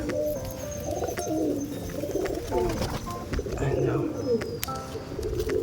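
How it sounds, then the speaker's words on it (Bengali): Several pigeons coo in soft, rolling bursts close by while eating green mung beans and milo, with occasional light clicks and pecking noises in the background. "পায়রাগুলো সব খাচ্ছে।"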